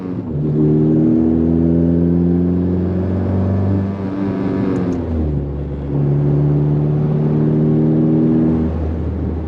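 A 10th-generation Honda Civic Si drives and accelerates, its engine droning loud and close through the cabin as it climbs through the revs, dips briefly at a gear change, then pulls steadily upward again.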